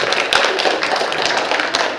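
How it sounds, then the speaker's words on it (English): Scattered clapping from an audience, quick uneven hand claps filling a couple of seconds at a steady, moderate level. "give a big round of applause for my friend Mackenzie for coming up here."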